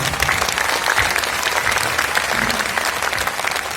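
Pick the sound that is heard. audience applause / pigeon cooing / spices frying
audience applause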